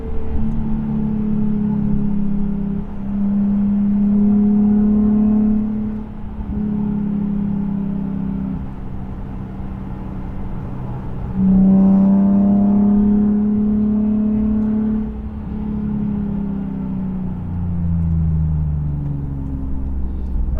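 A Nissan 370Z Nismo with a Fast Intentions exhaust holds about 5,000 RPM in third gear. It gives a loud, steady droning hum whose pitch holds, then shifts and slides lower toward the end.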